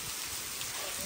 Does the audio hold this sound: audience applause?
no